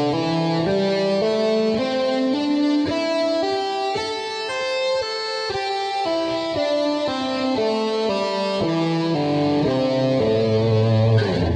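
Slow electric guitar legato lick built from hammer-ons and pull-offs, starting on the first note of each string; smooth, distorted tones step through a descending and rising line, close and steady with no voices.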